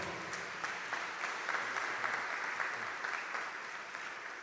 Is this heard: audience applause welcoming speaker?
yes